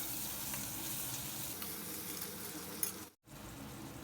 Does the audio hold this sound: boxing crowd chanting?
no